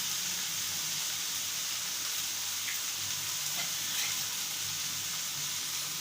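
Brinjal curry sautéing in an open pan, a steady soft sizzle and frying hiss running continuously at low level with faint stirring scrapes and no voices.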